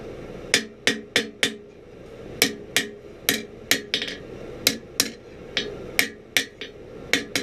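A hammer strikes the handle of a hand-forged 1700s-style scalping knife to put a slight bend in it. The blows ring out close and sharp, in quick bursts of two to four with short pauses between.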